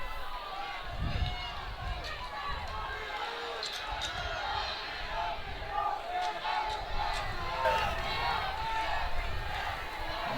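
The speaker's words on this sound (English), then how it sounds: "Hear the Mustang faithful cheering on the defense." Home fans of a high school football team roar from the stands during a tense late-game defensive stand, a dense, continuous crowd noise with shouts and cheers rising and falling throughout, fairly loud and close.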